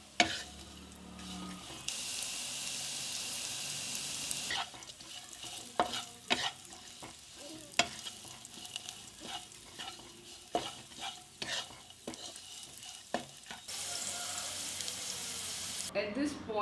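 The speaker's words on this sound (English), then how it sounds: "Mix them well and cook it for 5 minutes, stirring continuously." Elephant apple pickle with salt being stirred in a cooking pan, with scraping spoon strokes and a soft sizzle, plus occasional sharp clinks and a hissing background that comes and goes.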